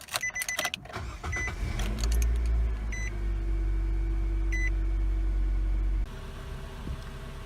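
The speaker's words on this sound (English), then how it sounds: "I'm going to start up the car and listen for any exhaust leaks" A 2013-2019 Nissan Sentra starts and settles into a steady low idle after a muffler replacement, preceded by brief clicks and chimes, the engine hum cutting off near the end.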